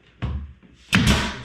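A nail gun fires into a shiplap board: two sharp pneumatic shots about a second apart, close and loud, each a sudden thud with a brief hiss, no talking.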